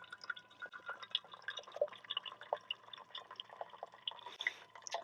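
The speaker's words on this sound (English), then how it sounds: "pushes it through the coffee filter, and brews my coffee" Small CAFORA Brew Pod portable coffee maker brewing coffee through its filter, giving a steady run of faint, irregular drips and trickles close by, without talk.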